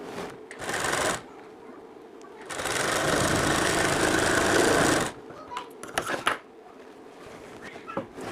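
A sewing machine stitches a piece for a prince-cut bridal blouse, running in a short burst and then a longer steady run, with fabric handling and clicks between the runs.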